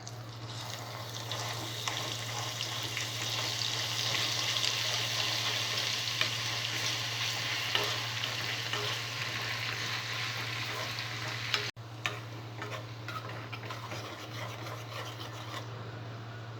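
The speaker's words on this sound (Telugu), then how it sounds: "అల్లం వెల్లుల్లి పేస్ట్ వేసుకొని పచ్చివాసన పోయే వరకు బాగా ఫ్రై చేసుకోవాలి" Ginger garlic paste frying in oil already used to fry chicken for a chicken pickle, giving a dense, continuous sizzling hiss with a low steady hum beneath and one brief break near the end.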